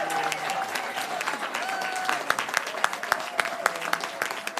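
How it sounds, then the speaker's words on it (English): A final round of audience applause at a gun-violence commemoration event, sustained clapping with sharp individual claps standing out and faint voices and cheers mixed in. "Can we have one last round of applause for Poe Murray and for Newtown Action Alliance?"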